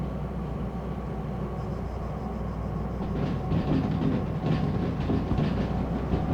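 Locomotive in the train simulator game Derail Valley rolling along with a little throttle applied, a steady rumbling run with faint rhythmic clatter that swells slightly louder partway through, no talking.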